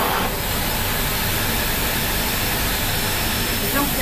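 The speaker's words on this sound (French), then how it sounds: "Là vous voulez tester un aspirateur de la concurrence" A competitor's vacuum cleaner runs on a carpet test bench during a suction-efficiency test, giving a loud steady broadband roar that stays constant for several seconds.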